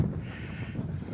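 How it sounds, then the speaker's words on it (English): Wind buffets a microphone at an outdoor spring college commencement ceremony, a steady low rumbling roar that fills the brief moment without any voices over it. "Boy, it's windy."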